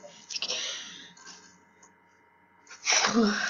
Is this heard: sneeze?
yes